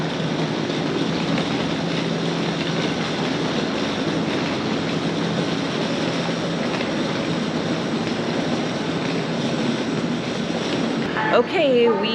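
A passenger train rolls into London with a steady low rumble and rail noise, continuous and moderately distant, briefly joined near the end by a short tonal squeal.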